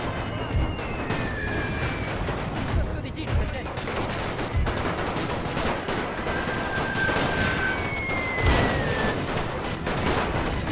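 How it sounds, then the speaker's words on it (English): A heavy machine gun firing in the video game Napoleon Total War, rapid bursts and scattered shots over a constant rumble of battle, with occasional louder thuds and faint whistles, sustained for the whole stretch. "Yeah, that machine gun sounds crazy."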